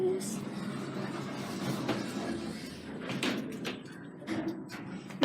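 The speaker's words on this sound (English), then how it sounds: "Door close." Hospital lift doors at Wellington Hospital slide shut with a soft mechanical rumble and a final thud near the end, heard close up over quiet background murmur.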